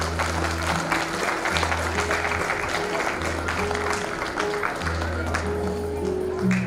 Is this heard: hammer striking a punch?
no